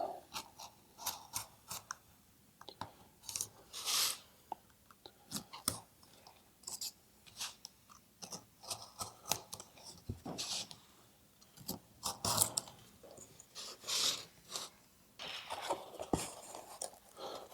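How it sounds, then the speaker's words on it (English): Scissors cutting cardboard for a papier-mâché mask, quiet irregular snips and crunching cuts in short bursts, close by, with no talking. "So we'll just cut along these lines."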